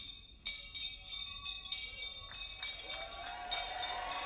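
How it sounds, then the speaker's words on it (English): Handbells ring repeatedly during a comedy bell-juggling routine on a cruise ship, bright clanging strikes in an irregular rhythm with lingering metallic tones, close and fairly loud over a low room background. "Bell juggling, you ready? Bell juggling."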